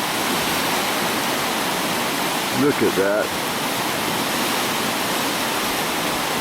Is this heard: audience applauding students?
no